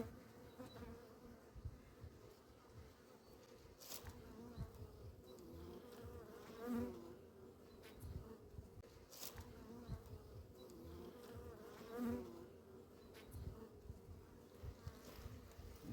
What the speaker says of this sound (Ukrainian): Перші бджоли вже виходять